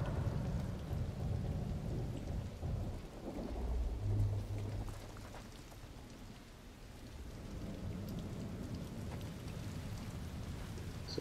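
Steady rain with low rumbling thunder fills a scene in the video game The Last of Us Part I, a continuous wash of falling water with a deeper roll swelling in the middle.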